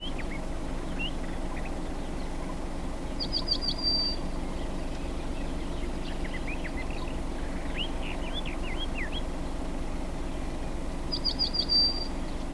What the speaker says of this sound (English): Kretzmer's bunting.